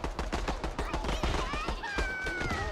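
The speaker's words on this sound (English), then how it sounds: "Or I'm just deaf with all the explosions and gunfire." Explosions and rapid gunfire from the multiplayer video game Worms Rumble, with dense bursts of shots and blasts crowding one another, loud and continuous, and tonal whooshing effects rising through the mix.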